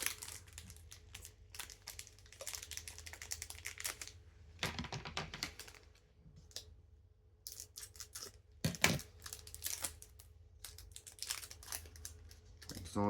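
Pokémon booster pack wrappers crinkle, rustle and tear open in bursts up close, with scissors snipping at the foil, intermittent sharp crackling separated by brief quiet pauses, no speech.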